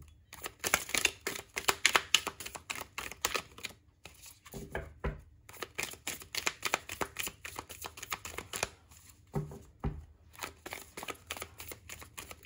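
Close, crisp riffling of tarot cards being shuffled by hand, in repeated bursts of rapid flicking separated by brief pauses.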